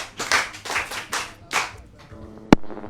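A few rhythmic hand claps from an audience at a Yoruba podcast recording, about five distinct bursts at a steady pace, followed by a single sharp tap near the end.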